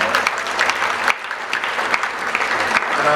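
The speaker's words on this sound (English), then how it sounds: "another round of applause for this guy." Theatre audience at a sold-out musical at the Shaw Theatre, London, bursting into loud, sustained applause with dense clapping and crowd noise, briefly dipping then swelling again.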